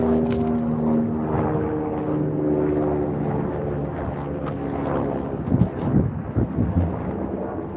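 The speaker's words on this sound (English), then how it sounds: "There's an airplane, oh no, helicopter right above me." A helicopter drones overhead with a deep, steady rotor rumble, joined by a few louder thumps toward the end.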